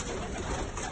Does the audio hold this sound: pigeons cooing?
yes